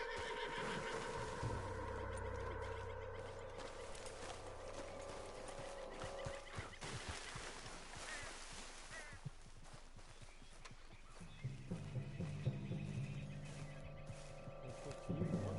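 A horse in Red Dead Redemption 2 whinnies and snorts amid hoof clops and game sound effects, the neighing fairly close and mixed with mechanical clicks and a low hum.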